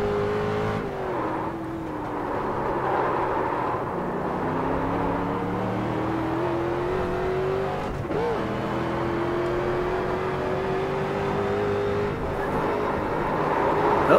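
A car engine drones steadily in a racing video game, its pitch sliding down and up through shifts, then holding a strained, even tone as it fails.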